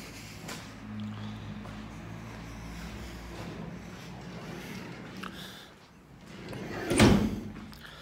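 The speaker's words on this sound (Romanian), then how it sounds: "Vezi ce bine merge ușa acum de când i-am pus ăsta ulei" A freshly oiled door swings open and closed smoothly, with soft muffled movement and a louder thud near the end as it shuts, heard indoors.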